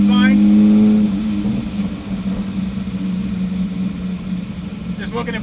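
A Lamborghini engine with a fault, badly in need of a tune-up, revs loudly and then drops to a rough, steady drone after shifting into second gear, with a voice talking over it.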